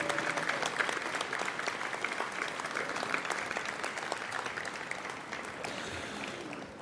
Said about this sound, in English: Ladies and gentlemen, a round of applause for the members of our National Softball Hall of Fame.